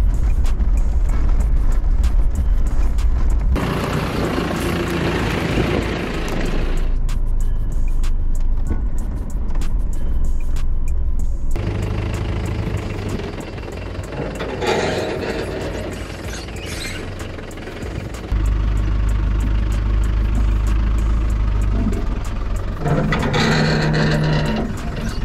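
Land Rover Discovery 4x4 with new shocks driving off-road toward a flex spot, a steady close engine and drivetrain rumble with creaks and rattles, shifting in loudness as the vehicle moves, no talking.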